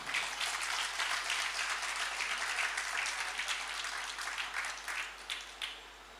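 An audience applauds during a Hindi religious discourse: full, dense clapping that holds steady, then thins into scattered claps and fades near the end.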